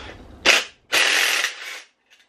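An impact gun rattles fuel rail fittings off a Mazda MX5 engine in two short, sharp bursts, the second longer and trailing off, followed by a faint click; close and loud in a quiet workshop.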